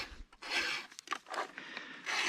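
A hand file rasps across the rakers of a new chainsaw chain in several short, close scraping swipes with brief pauses between strokes.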